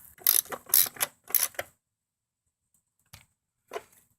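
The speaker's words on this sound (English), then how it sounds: "We're going to put that 12-millimeter bolt back in." Hand ratchet tightening a 12-millimeter bolt on the rear seat of a 2005–2009 Subaru Outback: a quick burst of close, sharp clicking strokes, then silence broken by two brief isolated clicks.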